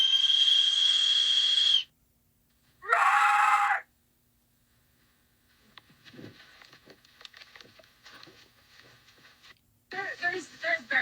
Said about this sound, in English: Is that a bear whistle?